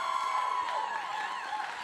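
Live podcast audience cheering and making noise in a hall, a dense steady wash of voices and whoops at moderate distance with no single voice standing out.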